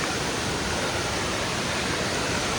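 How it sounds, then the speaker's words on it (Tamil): A waterfall at Anguthi Sunai roars as a dense, unbroken rush of falling water, loud and steady throughout, with no voices. "இது ஒரு ஃபால்ஸ் காய்ஸ்"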